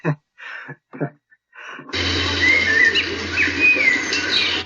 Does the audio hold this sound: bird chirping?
yes